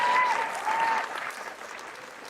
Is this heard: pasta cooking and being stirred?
no